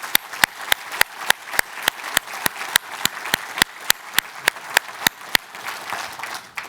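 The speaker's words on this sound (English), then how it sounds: "Let's give them a big round of applause." Audience applause at an event celebrating a new Bay Area medical school: a steady wash of crowd clapping with sharp, evenly spaced claps from one nearby clapper standing out, sustained throughout.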